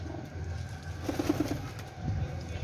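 A Lal Badshah cross pigeon coos softly in a short series of low, throaty notes, with another brief coo after, against a noisy outdoor background.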